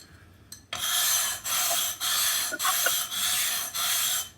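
A woodcarving gouge for violinmaking is rubbed back and forth on a sharpening stone in five steady, loud rasping strokes, each about half a second apart, with no talking.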